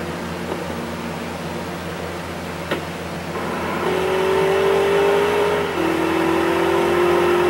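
A car engine in GTA San Andreas, idling hum that swells into a louder steady rev as the vehicle pulls away, with a brief clunk before, no talk.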